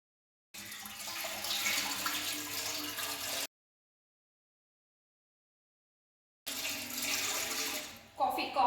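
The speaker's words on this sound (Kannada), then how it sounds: "ಕಾಫಿ ಮಾಡೋದಕ್ಕೆ ಒಂದು ಸ್ವಲ್ಪ ನೀರು ಹಾಕಿದ್ದೀನಿ" Water runs steadily into a vessel for a few seconds, stops, then pours again, with a clink near the end.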